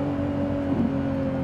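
A Lamborghini Revuelto's V12 hybrid engine hums with a steady, loud tonal drone, holding an even pitch at constant revs for a brief moment without any talking.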